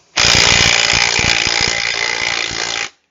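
A big impact tool hammers on a tight front strut nut of a 2014 Cadillac Escalade in one loud, close, continuous rattling burst of almost three seconds that cuts off abruptly, with no voices.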